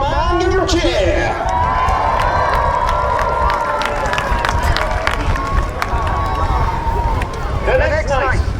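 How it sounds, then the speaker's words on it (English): Crowd at a castle jousting tournament cheering for a jouster, loud sustained shouting and whooping from many voices, with scattered higher yells and clapping running throughout. "So if you're supporting the wild man, give him a cheer"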